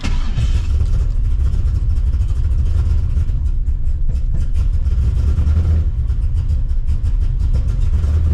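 A 408 LS3 big-cam engine idles rough and not yet warm, giving a loud close uneven lopey rumble with irregular pulses throughout and no talk.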